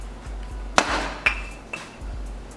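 3mm+3mm laminated glass is struck during a breakage test, giving three sharp hard impacts with ringing, clinking tails, the first loudest, against a low steady hum.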